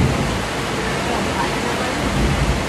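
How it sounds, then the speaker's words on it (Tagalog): Steady, loud rain falls outdoors in a continuous broadband hiss with no breaks, filling the whole stretch without distinct drops or thunder. "Maton, tingnan mo yung ulan, Maton."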